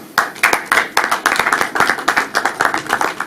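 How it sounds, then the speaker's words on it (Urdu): Steady, loud rhythmic clapping from an audience at an Urdu poetry gathering, close and sustained with no voices over it. "بھرپور تالیوں."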